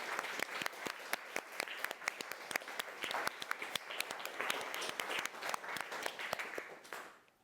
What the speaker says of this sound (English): can we do an applause?